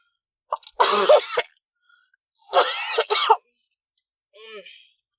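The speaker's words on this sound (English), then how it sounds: "I'm going to be cutting those coughs out." Two bursts of harsh coughing from one person, close to the mic, separated by a pause, then a softer throaty sound at the end.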